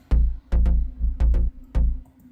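Two stacked synth bass layers from a Serum preset play short, punchy low notes in a syncopated pattern, thick and close, with brief gaps between hits.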